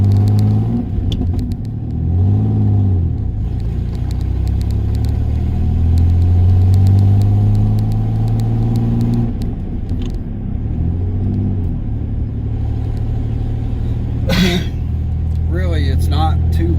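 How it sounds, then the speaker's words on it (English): Road noise and engine rumble inside a pickup fitted with a camper shell during a test drive, much of it leaking through the seal at the rear window opening; a steady loud drone under someone talking throughout. "Most of the noise is coming in through this seal between where the rear window would be and the camper shell."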